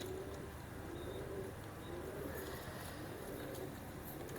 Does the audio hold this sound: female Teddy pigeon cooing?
yes